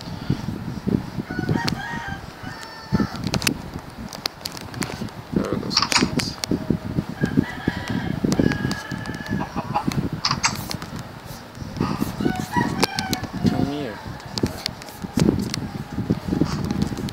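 Video-game chickens in a survival game cluck and crow repeatedly over seventeen seconds, with scattered footsteps and a whirring fan-like hum beneath the steady barnyard calls.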